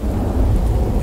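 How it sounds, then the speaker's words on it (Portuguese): Heavy rain pours with rumbling thunder in the survival game The Infected, a dense, steady roar of downpour with a deep low rumble throughout, loud and continuous with no voices. "A chuva tá com força, velho."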